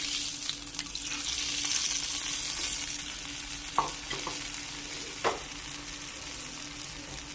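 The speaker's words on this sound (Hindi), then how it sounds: "अब मैं इसको कड़ी के ऊपर डाल दूँगी।" Hot tempering of curry leaves poured over pakora kadhi gives a steady close sizzle with soft stirring and clinking, a couple of sharper clatters midway, no voices.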